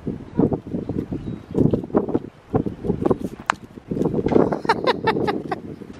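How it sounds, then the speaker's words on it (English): Strong wind buffets outdoors on a cold spring day, gusting roughly against the microphone with irregular rumbling bursts and a few faint higher clicks throughout. "Whoa, that wind is crazy, huh?"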